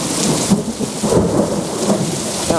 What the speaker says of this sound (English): I'm just going to keep it on for a while and let you hear the thunder and the lightning